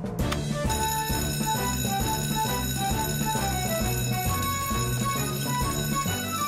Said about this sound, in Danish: Det er ikke falsk alarm denne gang, Sam